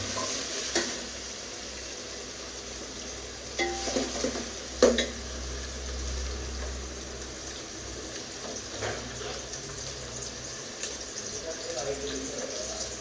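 Ginger garlic paste with coconut and chillies is stirred and fried in a pan for chicken sukka, giving a soft sizzle with scrapes and clinks, while a person talks at times.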